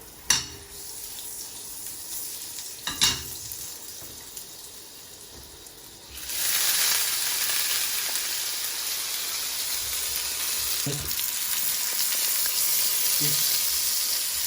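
Oil and a knob of butter hit a hot pan, with scattered light knocks first and then a steady, loud sizzle that holds to the end.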